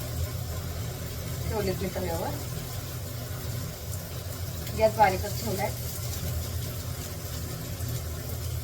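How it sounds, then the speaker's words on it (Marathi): A kitchen exhaust hood drones steadily and evenly throughout, with someone talking over it and a faint sizzle from stuffed bitter gourds cooking on a griddle. "चिमणी चालू राहून जाते बघा"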